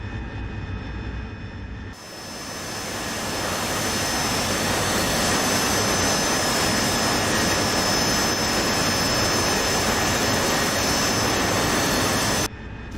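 Jet aircraft engine in a flight simulator game roars up to a loud, steady, sustained whine after a brief lower idle, then cuts back abruptly near the end, with no talking.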